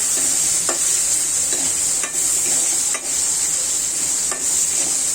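Dried ribbonfish is stirred in a pan with turmeric and cinnamon, with a constant close sizzle and scraping strokes repeating about every second.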